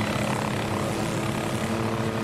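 A helicopter in Garry's Mod flies steadily, its engine and rotor droning as a continuous, loud, even hum with a low pulsing throb.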